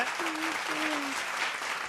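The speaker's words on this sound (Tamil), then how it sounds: "ஒரு உற்சாகமான கைத்தட்டல் கொடுங்க" An audience at a speech event breaking into steady applause, a dense wash of clapping from a crowd that stays fairly loud and even, with a brief voice faintly audible within it.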